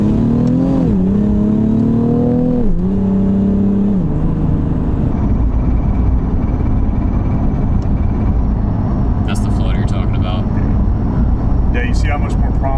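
A car engine revs with rising and falling supercharger whoosh, then settles into a steady whirring hum with fluttering air noise from the blow-off valve, under talk.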